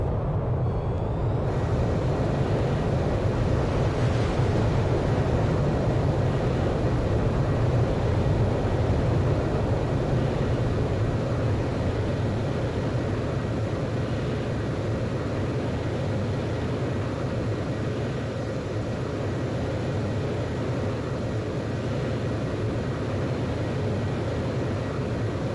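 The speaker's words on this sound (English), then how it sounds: "Blaze, you are cleared for takeoff." A jet fighter roars through a catapult launch off an aircraft carrier in Ace Combat 5, a loud, steady broadband engine rush that holds for the whole stretch with only slight easing toward the end.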